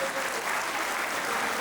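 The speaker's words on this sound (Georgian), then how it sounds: "ერთი აპლოდისმენტები კიდევ მიუძღვრათ ამ ადამიანებს" Guests at a celebration applaud the parents, a soft, even wash of clapping heard from a slight distance.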